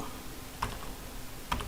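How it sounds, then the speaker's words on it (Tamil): A few sparse keystrokes on a computer keyboard, two distinct soft clicks against a low background hum, fairly close and quiet, with no talking. "இந்த ரெண்டு லைனுக்கும் இடையில் active work book dot சேவ்னு type பண்ணுறேன்"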